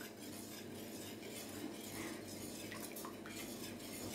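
A spoon stirs melted chocolate in a bowl for a fondant chocolate cake, steady scraping and light clinks of metal against the dish, close and continuous with no talk.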